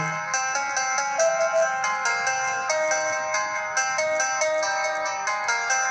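A Fire-Boltt Ring 2 Bluetooth calling smartwatch plays music through its small built-in speaker. A bright, tinny, steady melody of repeated notes runs without pause and with no voices.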